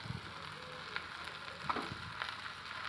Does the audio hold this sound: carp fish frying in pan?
yes